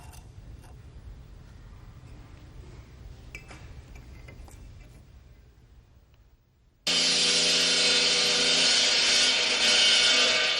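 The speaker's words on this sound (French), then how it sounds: "Le maçon coupe les briques." A mason cuts bricks with a saw: quiet scraping and handling sounds give way to a sudden loud, sustained high-pitched whine of the blade biting into brick, close by with no talk.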